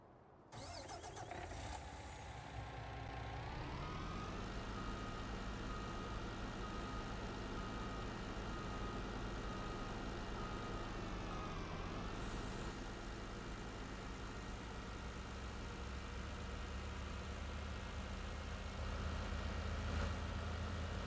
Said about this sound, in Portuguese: Ligou o caminhão.